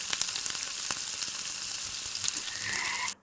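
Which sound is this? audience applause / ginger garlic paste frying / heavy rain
ginger garlic paste frying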